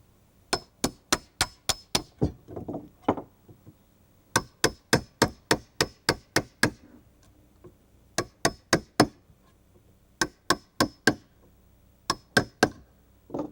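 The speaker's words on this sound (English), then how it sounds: "A chisel finishes it off." Someone strikes a chisel to finish the rip cuts in a wooden deck post, giving sharp, ringing taps in quick rhythmic bursts of five or six. Short pauses and a bit of scraping fall between the groups.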